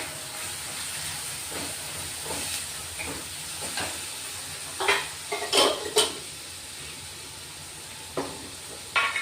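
Turmeric and Kitchen King masala sizzle in a pan with a continuous hiss, joined by scraping stirs and a few louder clinks of a spoon against the pan. No one speaks.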